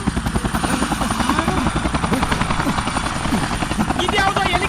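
A helicopter passes near a road in a comedy film scene, its loud rapid rotor chop pulsing steadily and close, with voices mixed in underneath.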